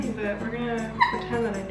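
A pet dog whimpers briefly and faintly in a home kitchen where a vegan birthday cake is being decorated, its thin whine rising under ongoing talk from a nearby person.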